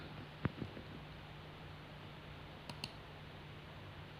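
Computer mouse on a PC being clicked: a few soft, isolated clicks in two small pairs over faint, steady background hiss, with no talking.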